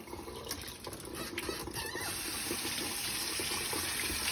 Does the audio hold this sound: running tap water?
yes